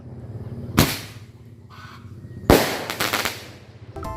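Firecrackers set off against raw eggs in an Indonesian Independence Day contest give two sharp, loud bangs a couple of seconds apart, the second followed by a quick spray of crackling pops.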